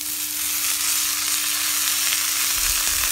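Drumstick flowers fry in a hot pan with steady, even sizzling throughout, close and alone without talk.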